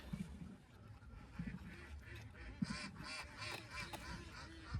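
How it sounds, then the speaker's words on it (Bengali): Many ducks at a duck farm quacking and honking together in a busy chorus, moderately distant and fairly faint, continuous throughout. "হাঁসের শব্দের জন্য হয়তো বা আপনারা কিছু শুনতে পারবেন না দেখতে পাচ্ছেন এখানে হাঁসের ফার্ম অনেক হাঁস"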